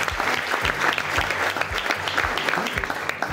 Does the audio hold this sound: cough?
no